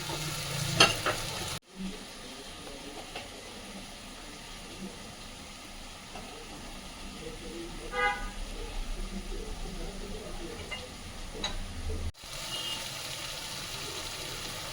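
Masala with yogurt and spice-washing water simmers and sizzles in a pan for a Bengali shol fish curry, a steady close bubbling hiss with a few stirring scrapes and short cuts in the sound.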